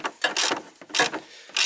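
A hand tool ratchets in short bursts while tightening the bolt on a car battery terminal, giving several close, crisp clicking strokes separated by brief pauses.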